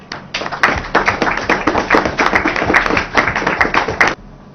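Steady clapping from a crowd of political party supporters and officials at a meeting, a dense run of close hand claps that stops abruptly near the end.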